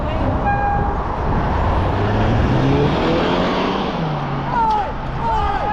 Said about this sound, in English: Car back!